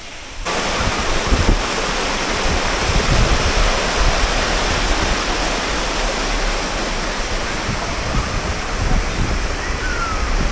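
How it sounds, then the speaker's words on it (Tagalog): Balagbag Falls in Real, Quezon roars as a steady, full broadband wash of falling water, close and loud throughout, with no talk over it. "So ayan, nakikita nyo yung falls."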